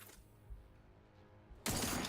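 Gunfire in a video game: after a near-silent stretch, a sudden loud, dense burst of shots erupts and continues to the end.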